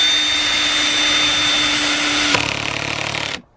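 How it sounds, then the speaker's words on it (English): A power drill set to a slow speed drives in fasteners while building garden frames for crops, a steady loud motor whine that holds evenly, then shifts in tone partway through and cuts off abruptly near the end. "set to slow drill and just push them in"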